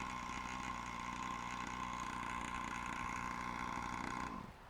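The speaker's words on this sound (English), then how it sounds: "you can hear the noise level of this hybrid is really low" An Acecore Noa hybrid drone engine idles with a steady, low-pitched hum and a sustained whine above it, unchanged for several seconds before it suddenly dips at the very end, near and constant with no talking.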